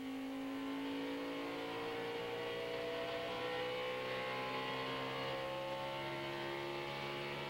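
A NASCAR race car accelerates out of a corner at the 1998 Motegi race; its engine note climbs steadily in pitch, heard fairly faint and distant over a constant broadband roar.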